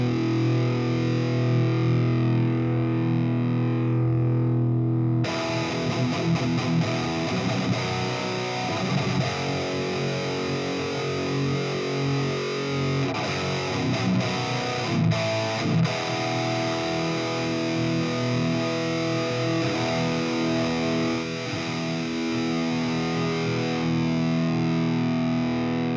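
A heavily distorted electric guitar plays riffs and chords through a 5153 amp model on an Axe FX III with Dyna Cabs, loud and saturated, starting after a brief held tone.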